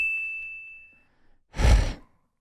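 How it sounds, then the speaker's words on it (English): A single bright bell ding rings out and decays, followed after a short pause by a loud breathy exhale or sigh close to the microphone during a sports talk radio show. "when the bell dings, we move quickly on to the next one"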